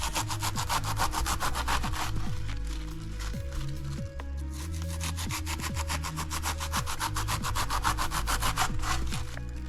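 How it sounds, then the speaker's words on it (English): A serrated knife saws back and forth through food, cutting very thin slices for egg rolls. The strokes are steady, close and rhythmic, and no one speaks. "you use a serrated knife, and you can get some very, very thin slices with the serrated knife"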